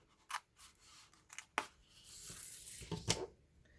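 Sharp, brief snips of scissors trimming small pieces of paper or cardstock for a handmade gift pouch, a few close cuts separated by quiet rustling and handling.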